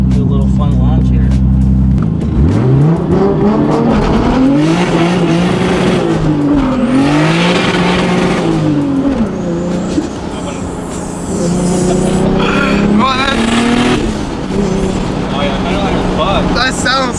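A big-turbo 2JZ Toyota Supra launching hard, its engine rising from a low idle into a loud surging rev with climbing and falling pitch through gear changes, heard from inside the car with voices talking over it.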